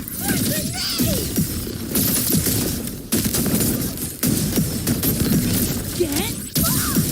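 Rapid bursts of gunfire and grenade blasts from the video game Wuthering Waves crackle loudly in repeated waves, with brief breaks between volleys and scattered game effects mixed in.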